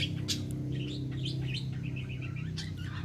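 Baby birds of an ornamental breed chirp in a quick series of high, thin calls over a steady low hum, fairly close and continuous.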